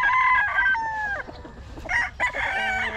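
A rooster crows loudly and close, several drawn-out cries in succession, while other fowl cluck and call in the background of a yard of young stags.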